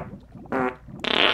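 A toilet in a Minecraft furniture mod plays a fart sound effect: one short blurt, then a longer, louder sputtering burst, both brief and close.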